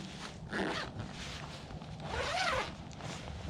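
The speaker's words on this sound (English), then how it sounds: "It's a nice double zip," A double zipper being pulled open around a heavy-strapped carry bag for an Outbacker Firebox Range oven stove, a close rasping zip in two drawn-out pulls.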